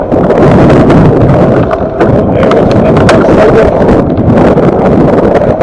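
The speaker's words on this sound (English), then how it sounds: "the wind is blowing all the snow away" Steady, loud wind roars and buffets the microphone during a fat bike ride through wind-blown snow, a dense continuous rush with faint crunching and rustle underneath, no talking.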